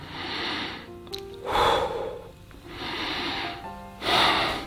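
Two slow, deep breaths, each a long airy inhale followed by a louder, forceful exhale, close and clear, with no talking.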